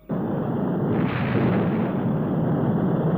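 A sustained, loud roaring rumble of rocket thrust as a first stage separates, broadband and steady, with a slight surge partway through and no voices.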